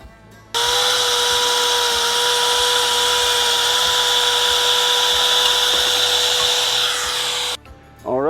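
A power tool runs steadily for about seven seconds, cutting a heater port hole through a Lone Peak camper panel with a jig, a loud constant whine starting and stopping abruptly, with no talk.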